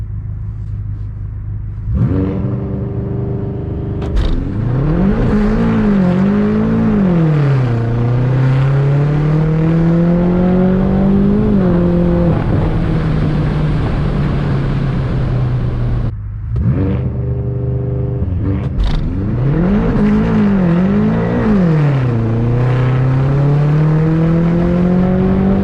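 A BMW F10 M5 launches hard using launch control with traction off, its engine revving and pulling through rising gears in two loud, close runs of climbing roar with brief shift dips.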